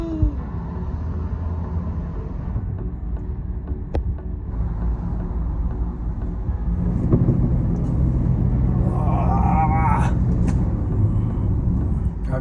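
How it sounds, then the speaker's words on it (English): Low engine rumble and road noise inside a converted box truck stuck in city traffic in Mexico, steady throughout and swelling slightly toward the end, with a person talking over it. "Yay for traffic!"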